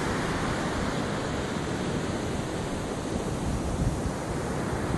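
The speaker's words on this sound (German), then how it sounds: "Weit und breit nichts als Strand." Ocean surf on a wide, open beach washes in a steady, continuous roar, with broad wind-like noise throughout and no voices.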